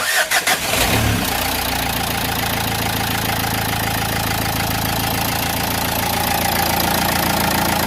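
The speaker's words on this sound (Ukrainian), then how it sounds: "Ну і пробуємо тепер заводити, чи прокачали ми солярку чи ні." A Renault Megane 3 diesel engine cranks briefly and fires up after a fuel filter replacement, then settles into a steady, loud, even idle close by.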